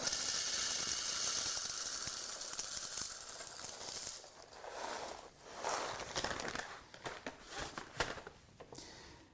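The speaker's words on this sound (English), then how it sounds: "And then we'll grind some store-bought coffee." A Sage Barista Express (BES870UK) espresso machine grinds stale store-bought coffee beans, a steady loud whirring burr grind for about four seconds, then fading into quieter, uneven rattling and clicks.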